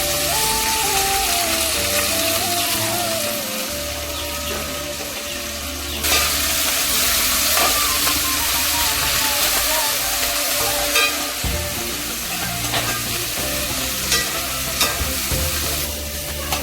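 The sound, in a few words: onions and fenugreek leaves frying in a pan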